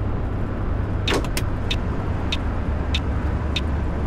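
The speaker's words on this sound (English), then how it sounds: "On the Thrustmaster, the indicator is so loud." A coach's turn indicator in Fernbus Coach Simulator, played on a Thrustmaster wheel, ticks sharply at a steady rhythm over a constant low road and engine rumble, with no voices.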